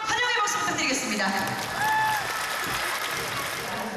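Dense, steady applause from a live audience welcoming Go players Shin Jin-seo and Choi Jeong to a special baduk match, continuous for the whole stretch with a voice speaking over it.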